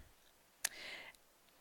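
A single crisp computer mouse click sounds close and faint against quiet room tone, followed by a short trailing rustle.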